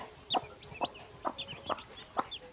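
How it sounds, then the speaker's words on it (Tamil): Native chicks and hens on a farm cluck and peep in a steady string of short, bright calls, about one every half second, close by with no voices. "எல்லாம் நல்ல நாட்டு குஞ்சுகள் தான்."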